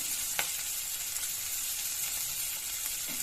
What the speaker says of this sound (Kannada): ಈರುಳ್ಳಿ ಹಾಕೊಂಡ್ಬಿಡ್ತೀನಿ ಫ್ರೈ ಮಾಡ್ಕೊಂಬಿಡಿ